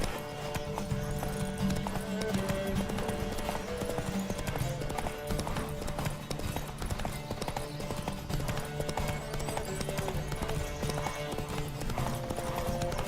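Steady galloping hooves pound continuously over a layer of background music in The Witcher 3 video game, with a horse neighing briefly; no one speaks.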